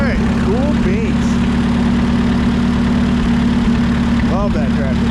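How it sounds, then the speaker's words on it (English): A 1950 Minneapolis-Moline UTS tractor engine idles with a steady low chugging rumble, close by, with faint squeaks and a voice in the background. "Love that tractor."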